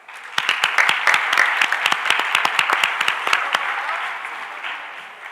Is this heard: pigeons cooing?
no